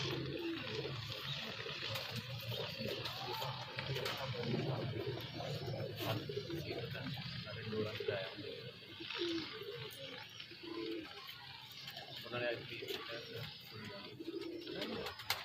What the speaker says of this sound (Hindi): माशाल्लाह ज़बरदस्त कबूतर है ये हमारा